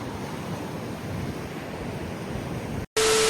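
Sea waves wash onto a beach on the Odisha coast at high water, a steady broadband rush of surf, before a sudden cut to silence and a brief steady tone.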